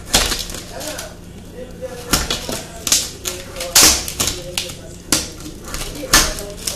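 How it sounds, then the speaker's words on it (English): A knife chops bananas on a cutting board for a protein shake, sharp evenly spaced taps close by, with no talking. "I'm gonna cut up my bananas."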